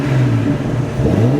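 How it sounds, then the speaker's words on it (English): A Jeep Cherokee Sport with a Flowmaster exhaust revs up close by, giving a steady loud engine drone and throaty exhaust note that rises and falls slightly. "I'm going to rev it up a little bit so y'all can hear the exhaust sound from right here."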